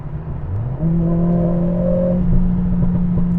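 A Mercedes CLA45 with a new aftermarket exhaust, set to race mode, revs up with a rising engine tone that settles into a steady loud drone with clear harmonics and some faint rattling.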